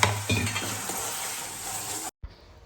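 Vegetables frying and being stirred in an iron wok over a low flame for a potato curry with black masala, a steady close sizzle with stirring scrapes that cuts off abruptly near the end.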